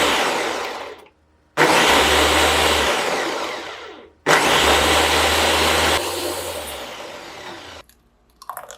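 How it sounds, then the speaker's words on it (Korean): A blender whirs loudly as it purees steamed tomato, steamed carrot, celery, lemon juice, water and salt into a smoothie, running in two long bursts separated by a short pause, with the pitch shifting as the mixture thins. "찐 토마토, 찐 당근, 샐러리, 레몬즙, 물, 소금 넣어 잘 갈아주세요."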